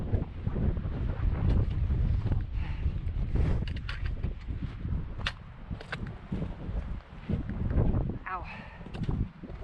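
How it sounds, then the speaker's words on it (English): Strong gusting wind over a mountain pass near a lake, buffeting the microphone in heavy roaring bursts that rise and fall, with a person talking intermittently underneath. "It's called the pass is very windy"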